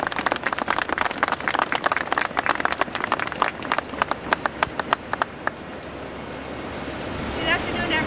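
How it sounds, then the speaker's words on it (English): Round of applause from an audience at a first responders' gathering, with sharp, distinct hand claps forming a lively, uneven patter that thins and dies away after about five seconds, leaving quiet room tone and a faint voice. "Round of applause for Jen McNamara."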